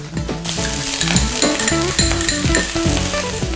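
Phad Thai noodles sizzle hard in a hot pan right after seasoning sauces go in, with steady crackling frying and repeated scraping, clinking strokes of a utensil stirring through the wok, close and continuous.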